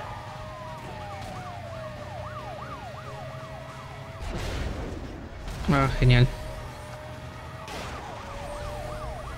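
Police car sirens wail in repeated rising and falling sweeps during a Need for Speed Most Wanted chase, over steady engine noise. A loud crash-like burst comes near the middle, and someone briefly speaks.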